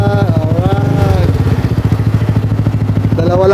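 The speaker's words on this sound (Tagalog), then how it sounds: "2 lang kami magra-ride, 2 motor lang." A motorcycle engine idles close by in a steady low throbbing pulse, with voices talking over it.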